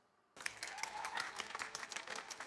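A tennis player at a 2025 US Open men's quarterfinal claps in sympathy, a soft run of steady, fairly faint claps that begins suddenly and blends into light crowd applause.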